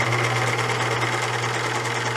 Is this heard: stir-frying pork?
no